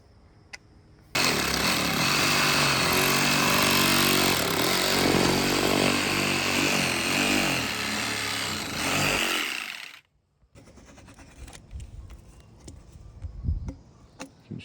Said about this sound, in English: this is where we're going to cut our pipe